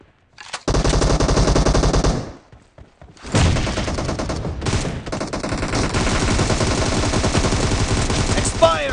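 Gunfire in the mobile game PUBG Mobile, long loud bursts of rapid automatic fire, a brief lull, then sustained shooting continuing to the end.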